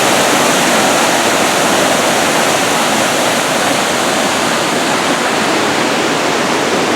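Water-ride waterfalls at Six Flags Over Georgia in Austell roar in a loud, continuous broadband rush, steady and close with no pauses.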